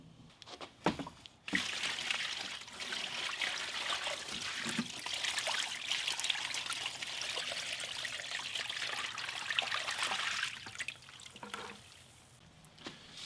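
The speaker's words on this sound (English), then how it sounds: "you'll see it's leaking all from the bottom of the drain" Water trickles and dribbles steadily from the bottom of a drain with a plugged 2-inch stub out during a fill-up water test, a continuous close hiss of leaking flow with a few knocks at the start.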